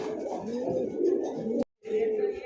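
A flock of pigeons at a wholesale pigeon market coos continuously, many overlapping low calls forming a dense, close murmur that cuts out for a moment before resuming.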